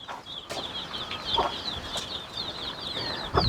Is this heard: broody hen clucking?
yes